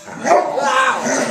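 An aggressive dog barks and snarls during an attack, loud and close, with harsh overlapping barks running continuously across the moment.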